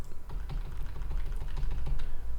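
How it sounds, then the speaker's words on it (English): Arrow keys on a computer keyboard are tapped in quick, uneven clicks over a low background hum, close and moderately loud with no talking. "use the arrow keys on my keyboard to move them a little bit"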